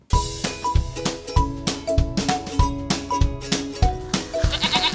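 Goat bleating repeatedly, loud and close, several overlapping calls in quick succession with no talk.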